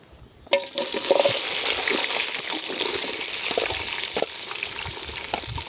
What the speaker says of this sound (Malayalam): നമുക്ക് ആദ്യം ഓയിലൊന്ന് കുറച്ച് ഒഴിച്ചു കൊടുക്കാം